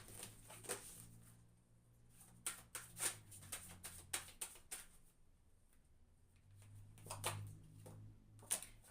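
Tarot cards shuffled by hand, with quiet bursts of riffling and soft slaps coming in several short irregular clusters, close up, separated by near silence.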